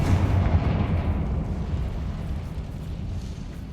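A Confringo spell bursts in Hogwarts Legacy, a loud fiery explosion with a booming onset that rumbles and fades over a few seconds inside a cavern.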